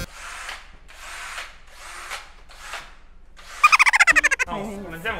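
A power drill runs in four short bursts during a home bathroom remodel, close and loud, followed by a quicker rattling pulse and a whining tone at the end.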